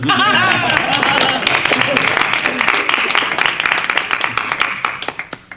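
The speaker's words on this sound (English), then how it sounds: "Give yourselves a round of applause for being here at 1 o'clock on a Saturday" A panel audience applauding at a radio industry conference, a full burst of many hands clapping that holds steady, then thins out into a few scattered claps as it fades at the end.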